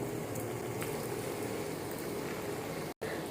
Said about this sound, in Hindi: अब दूसरे कटलेट्स भी डालेंगे फ्राई करने के लिए।